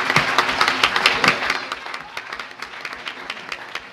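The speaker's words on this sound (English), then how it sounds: "Hey, one round of applause" An audience at a business competition event applauds, starting as a dense burst of clapping and gradually thinning and fading over a few seconds.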